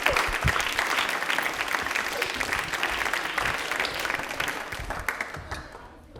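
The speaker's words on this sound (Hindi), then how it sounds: "तालियां हो जाए जोरदार एक बार। तालियां जोरदार हो जाए प्लीज।" Sustained audience applause at a Rajasthan TV general-knowledge quiz show, a dense wash of many hands clapping steadily for several seconds before tapering off at the end.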